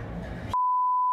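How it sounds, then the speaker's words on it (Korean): A phone rings with a single steady electronic tone that cuts in sharply after a moment of low background noise and holds loud and unbroken. "전화 온 거 아니야?"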